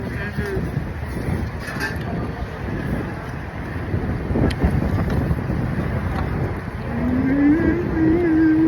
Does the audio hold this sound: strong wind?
yes